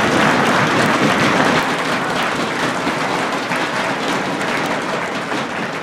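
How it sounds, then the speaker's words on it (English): An audience at the Duke Start-Up Challenge grand finale breaks into dense, loud, sustained applause with many hands clapping at once, easing slightly toward the end. "Let's give them all another round of applause."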